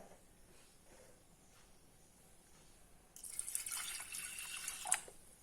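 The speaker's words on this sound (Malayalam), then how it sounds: "വെള്ളം ഒഴിച്ചു." Water is poured over washed toor dal in a kitchen pot while cooking sambar: a few faint drips, then a steady splashing stream for about two seconds.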